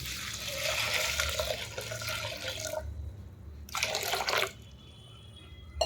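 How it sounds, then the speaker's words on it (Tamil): Water gushes and splashes steadily for a few seconds into a pot of broken adai for adai payasam, stops, then a second shorter pour follows, nearby in a quiet kitchen. "இது முழுகிற அளவு நம்ம தண்ணி ஆட் பண்ணிடலாம்"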